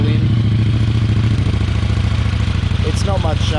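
KTM 790 Adventure R parallel-twin idling with a Wings slip-on exhaust, baffle fitted, giving a steady low throbbing burble that sounds close and continuous, with a brief faint clatter near the end.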